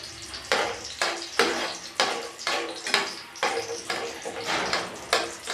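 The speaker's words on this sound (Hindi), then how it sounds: "अब हम इसको घी के अंदर इतना ज़्यादा पकाएंगे कि ये जो बादाम है ये जल जाएंगे" Almonds and ground coconut fry in hot desi ghee, a steady bubbling sizzle with rhythmic bursts as the pan is stirred, close and fairly loud.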